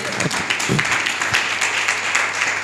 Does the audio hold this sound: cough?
no